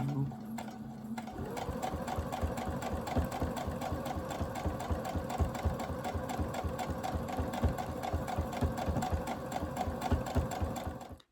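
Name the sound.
sewing machine quilting fabric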